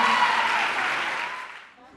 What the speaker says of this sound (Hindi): बहुत ही जोरदार तालियां होनी चाहिए सिमरन के लिए